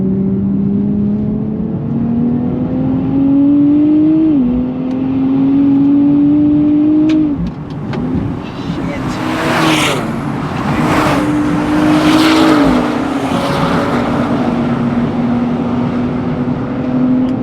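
A 2024 Nissan Z Nismo sports car engine drones loudly and steadily, revving up through gear shifts with rising pitch and a throaty roar, no talking.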